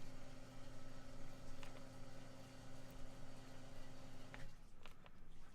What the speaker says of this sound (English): I'm not sure if you can hear that pump in the background